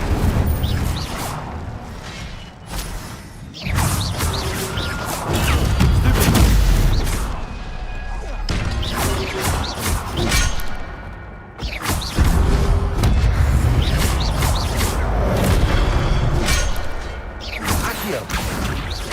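Incendio fire spells cast repeatedly in a Harry Potter video game, bursts of whooshing flame and booming impacts rolling in waves, loud and close, with clattering mechanical effects between casts.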